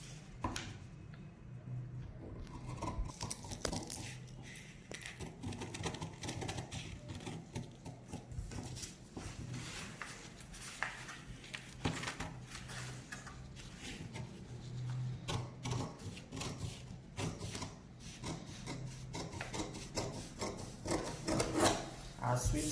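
Scissors cut through folded fabric for a sweetheart neckline, a long run of close, irregular snipping and rasping rubs with small pauses, quiet overall.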